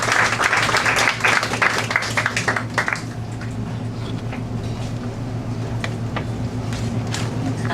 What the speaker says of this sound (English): Let's give the TSLE chairman, Mr. George Taylor, a big round of applause.